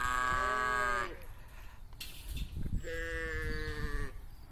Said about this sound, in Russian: посмотрите, ягнятки